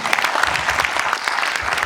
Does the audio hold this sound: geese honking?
no